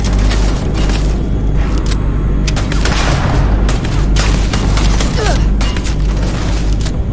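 Gunfire and booming blasts from a weapon in Starfield combat, dense and continuous with repeated sharp bursts over a constant low rumble for the whole stretch.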